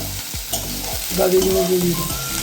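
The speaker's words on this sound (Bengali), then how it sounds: "পটলগুলো ভেজে দিতে বললো ভেজে দিচ্ছি" Pointed gourd (potol) slices fry in a pan with a close, bubbling sizzle, broken by a few quick scraping stirs and a faint whine in the background, no voices.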